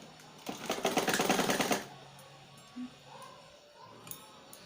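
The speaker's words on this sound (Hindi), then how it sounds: "और इसमें सिलाई मार देंगे।" A sewing machine stitches a salwar in a rapid, steady run of close mechanical clatter for about two seconds, then stops, leaving quiet room noise with a small thump and faint sounds afterward.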